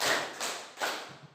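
A group at a teachers' jamboree claps in unison in three broad, washy bursts, the claps blending into a reverberant hall sound.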